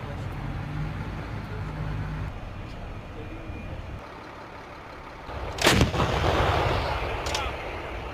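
Howitzer artillery fired during a training exercise: one sharp, loud report with a rolling boom, then a second, quieter shot, both over steady low outdoor rumble.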